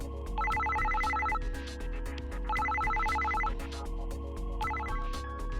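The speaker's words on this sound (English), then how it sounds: "it seemed like Shiori's cell phone started ringing" A cell phone rings inside the Psycho-Pass: Mandatory Happiness video game, a bright trilling ringtone in three bursts over a steady music bed, with no speech.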